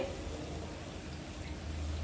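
Farsi puri frying in oil over a low flame, a soft steady sizzle with faint bubbling that holds evenly throughout, low and close.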